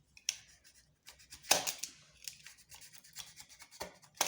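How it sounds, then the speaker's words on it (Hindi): Material being cut at a slant on a cutting board for a homemade terracotta-style recycled watering can, with sharp snips and scraping strokes spread across several seconds, close and fairly quiet, with no talking. "थोड़ा सा तिरछा करके इसको काटते हैं।"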